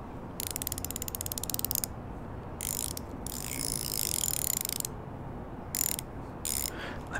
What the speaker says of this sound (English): Socket wrench, I believe.